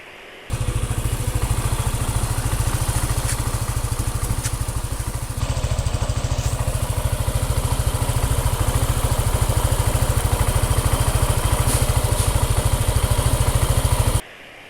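A small engine runs steadily with a close, even putter and faint mechanical clatter, nearly constant in level throughout.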